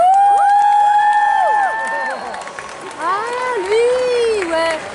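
Audience at a cosplay contest and catwalk event cheers and whoops for a performer, with loud shouted voices and some applause that burst up and ease off, high excited calls rising and falling over the crowd.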